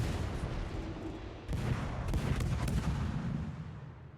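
Heavy naval gunfire from a Classic Omaha US cruiser in World of Warships, a dense rumbling barrage that swells sharply after a brief lull and keeps pounding steadily without talk.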